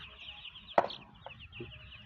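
Chickens in a poultry shed give a few short clucks and one sharper squawk over a low hum of the house, close and fairly faint, without any talking.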